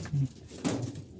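A pair of pigeons in a coop give a short, soft, low coo repeated twice in quick succession, close by.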